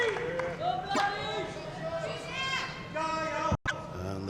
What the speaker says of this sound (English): I'm hearing a lot of Jayos, and I'm also hearing a lot of come on Vladdy